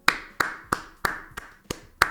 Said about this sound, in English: I can only clap for this, guys.